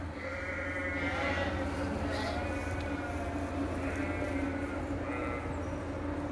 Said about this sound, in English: we're looking for vigorous sheep